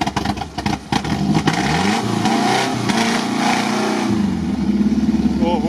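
A loud off-road vehicle engine with a torn-off muffler revs and rasps harshly, roaring up and down with a rough, unmuffled exhaust sound close by.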